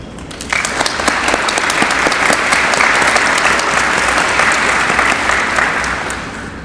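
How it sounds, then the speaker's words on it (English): Loud, sustained applause from a ceremony audience at a military change of command, steady clapping from many hands starting abruptly and continuing throughout. "Everyone, let's give them a round of applause."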